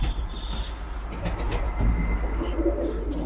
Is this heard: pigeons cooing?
yes